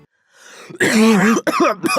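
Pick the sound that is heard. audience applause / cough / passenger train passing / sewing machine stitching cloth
cough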